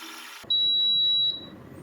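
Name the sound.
Nostalgia Retro electric kettle beeping when done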